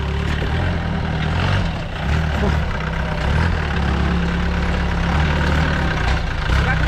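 A car engine labours loudly and continuously up a steep rocky road, a deep heavy rumble throughout with people talking nearby.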